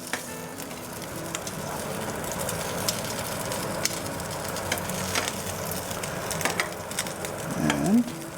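Cheese-filled beef tacos fry in hot oil in a pan, a continuous close sizzle and crackle with scattered pops and a brief scraping swell near the end, no voices.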